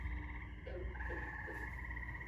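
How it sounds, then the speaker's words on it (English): Frogs croak steadily at some distance outdoors, a continuous pulsing chorus of trilling calls over a low background hum, with no voices. "Oh, you hear the frogs over there."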